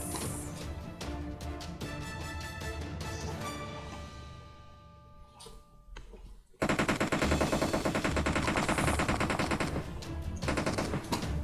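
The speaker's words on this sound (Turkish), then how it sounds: "Evet, çatışma var" A PUBG Mobile gunfight brings rapid machine-gun bursts, first moderate, then a brief lull before a very loud, sustained close-range volley of automatic fire.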